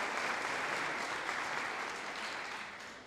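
Applause for a donor company at a Boys and Girls Club donor appreciation luncheon: steady, dense clapping from a seated crowd that holds evenly and tapers slightly toward the end, with no voices over it.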